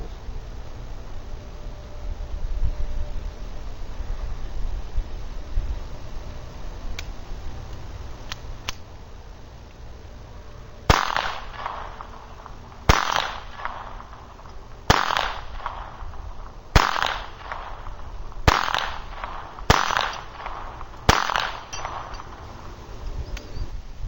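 A Beretta 21A .22LR pistol fires at 2.5-inch steel circles from about 7 yards: seven sharp cracks spaced roughly two seconds apart, each followed by a ringing ping, after a stretch of ambient noise.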